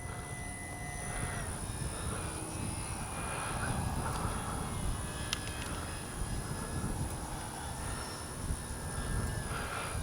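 A radio-controlled FMS PC-21 Pilatus trainer makes a low, fast pass into the wind at full speed. A faint, distant motor whine rises and falls in pitch over steady outdoor wind noise.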